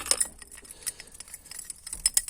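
A bunch of keys jangles with quick bright metallic chinks and clinks, close and fairly loud, in short irregular bursts without speech.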